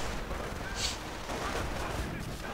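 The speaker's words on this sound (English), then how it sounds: "But the mortar opens up once more" Mortar and gunfire boom steadily through a dense World War II battle in a multiplayer strategy video game, a continuous rumbling wash of distant explosions with no clear gaps.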